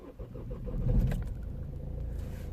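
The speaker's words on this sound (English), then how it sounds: "Let me start the engine." A 2012 Vauxhall/Opel Astra J engine cranking and catching, a brief starter whirr rising into a steady low idle rumble inside the car.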